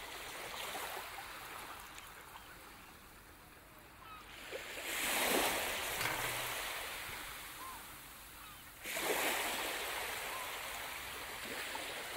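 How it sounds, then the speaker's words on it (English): Ocean waves on a beach wash in over constant low surf, with two nearby breakers surging loudly and then hissing away. No one is talking. "I'm on vacation at the beach."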